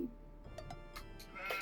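Sheep in the strategy game Age of Empires 2 bleat in short, faint calls spread across a second or so. The calls sit over quiet game ambience.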